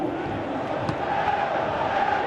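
Stadium crowd in a football video game giving a steady, distant roar of appreciation, a continuous murmuring swell without distinct voices.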